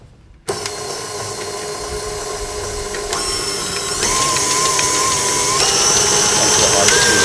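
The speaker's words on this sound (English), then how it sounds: "so we've placed the butter and the sugar into the mixer" An electric stand mixer beats butter and sugar on high speed, starting abruptly after a brief quiet moment and then holding a loud, steady mechanical whir whose pitch shifts a little as it runs.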